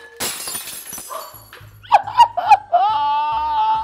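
Wine glass shattering in a kitchen during a blindfolded Christmas baking challenge, a sharp burst of breaking glass with tinkling fragments, followed by excited voices and laughter.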